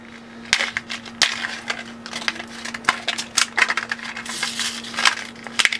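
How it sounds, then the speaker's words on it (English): A glass automotive fuse being pulled and a 10 amp fuse fitted in its place during a tachometer install, heard as a run of sharp clicks and small plastic and metal taps at close range, irregularly spaced and with no talking. "Let me replace this actually. I'm gonna put in a 10 amp fuse here."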